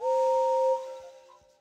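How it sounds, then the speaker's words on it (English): A steam engine whistle from the Thomas and Friends PC game, voiced as the big engine Gordon, sounds a loud two-tone blast for under a second, then falls away into a quieter fading tail. "Can you hear Gordon's whistle?"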